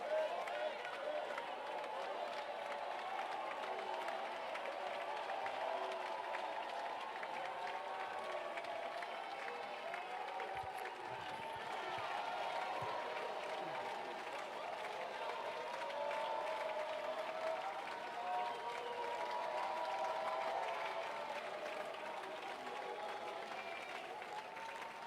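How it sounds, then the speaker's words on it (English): Sustained applause from an audience in a parliamentary chamber during a state of the nation debate, steady and dense for the whole stretch, with a crowd murmur underneath. "Thank you for the applause."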